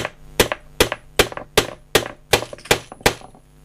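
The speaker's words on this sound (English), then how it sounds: "with me hitting this now with the hammerhead, I can only drive it as far as the timber itself" A hammer drives a Snap-edd nail into timber, eight sharp, evenly spaced blows about half a second apart, close and loud with no talking.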